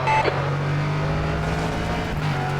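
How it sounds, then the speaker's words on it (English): A Norma M30 LMP3 race car engine drones in rFactor 2 at Interlagos, holding a loud, steady buzzing note with a brief higher rev at the start and no talking. "I rely a lot on the sound of the engine for the revs and when to change gear"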